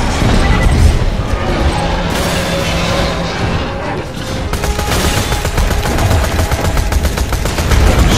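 Heavy sustained gunfire in Borderlands 2 during a chaotic boss fight, dense overlapping shots and crashes filling the whole stretch at high volume, with voices mixed in.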